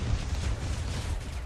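A deep, rumbling explosion fills a short moment of Crossout vehicle combat as an enemy vehicle blows itself up, a loud, dense low boom with no voices over it.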